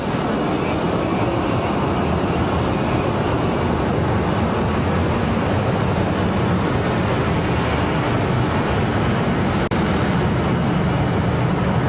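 Twin-turbine pulling tractor at a 2007 tractor and truck pull in Goshen, Indiana, roaring loud and continuous with a steady high turbine whine over a dense broadband rumble, close and unbroken throughout.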